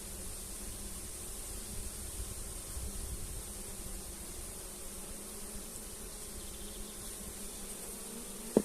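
Honey bees hum in a steady, dense buzz around an opened hive during varroa treatment, continuous and fairly close, with no talking.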